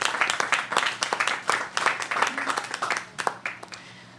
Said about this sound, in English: Let's have a round of applause for all of these businesses.